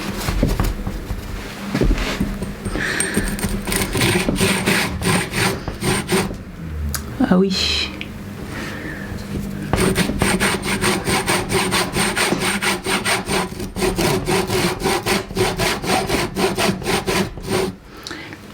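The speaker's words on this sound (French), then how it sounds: "j'ai une scie à métaux avec des grandes dents" A hacksaw with large teeth cuts through wood in steady, fast back-and-forth rasping strokes, close and loud, pausing briefly midway before resuming; a short spoken exclamation is heard.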